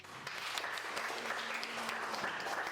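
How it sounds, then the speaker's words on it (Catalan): Applause from an audience after a children's storytelling session, a steady dense patter of many hands clapping throughout, moderately loud and close, with a faint low hum underneath. "un aplaudiment si us ha agradat"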